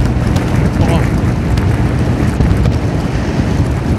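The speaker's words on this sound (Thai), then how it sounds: "ลมแรงจริง" Strong wind while riding batters the microphone with a loud, unbroken low roar and buffeting that fills the whole stretch.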